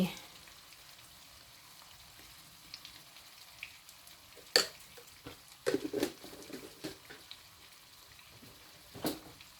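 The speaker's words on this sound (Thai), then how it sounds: "ผัดพริกหมูค่ะ ผัดพริกหมู" Pork chili paste being stir-fried in a pan gives a faint, steady sizzle, broken by a few sharper scrapes and clatters of stirring toward the middle and end.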